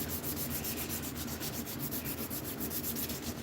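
Steady, rhythmic rasping of abrasive rubbed back and forth over a hard surface, close and continuous with a regular stroke pattern throughout.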